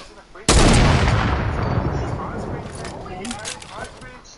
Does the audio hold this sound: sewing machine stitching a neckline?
no